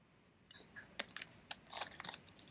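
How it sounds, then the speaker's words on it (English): Scattered keystroke clicks on a computer keyboard in a classroom during a web development lecture, irregular taps of varying loudness, fairly quiet and close, with no talking. "Anybody still typing?"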